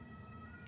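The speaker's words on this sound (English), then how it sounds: "there's an ambulance coming." An ambulance siren sounds faintly in traffic, heard briefly as a steady wailing tone from a distance while driving a Tesla Model Y.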